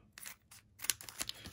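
Scissors snip open a baseball card pack in a few short, crisp cuts with small crinkling of the wrapper, close and quiet with no talking.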